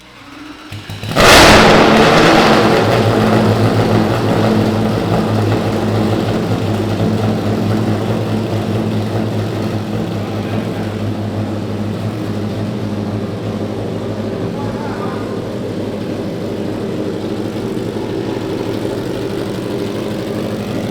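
A V8 mini truck engine tuned to sound like an F1 car cranks and catches, then settles into a loud, steady, close droning idle that holds with slight fluctuations.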